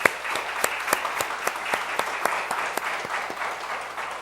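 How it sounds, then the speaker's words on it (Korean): Applause from a church congregation welcoming a newlywed couple, steady broad clapping with scattered sharper individual claps standing out, moderately loud and filling the room, no voices over it. "다시 한번 우리 뜨거운 박수로 환영해 주시기 바랍니다."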